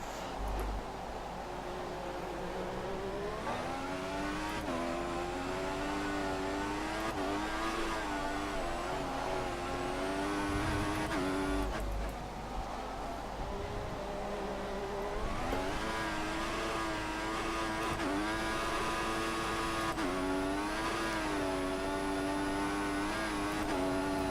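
Formula 1 car engine in the racing game F1 2014 at the Sao Paulo Brazil circuit, a high whining engine rising and falling through repeated gear shifts and revving, loud and continuous without any talk.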